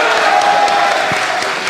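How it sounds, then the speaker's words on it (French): A crowd claps in a loud, dense burst of applause, with a few cheers mixed in, sustained throughout. "par applaudissement, s'il vous plaît. Bravo."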